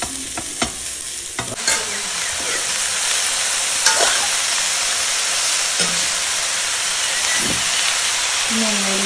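A spoon stirs spinach curry with turmeric and chili powder in a hot pan, over a constant loud sizzle with intermittent scraping strokes against the pan, close up.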